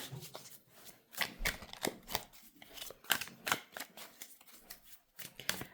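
Tarot cards are shuffled close up and faintly, in a run of crisp riffling bursts and soft slaps in an irregular rhythm, with no talking.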